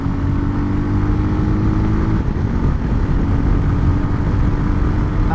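Voge 300 Rally motorcycle on the move, its engine a steady loud drone with harmonic hum that shifts pitch near the two-second mark, ridden continuously and up close with no talking.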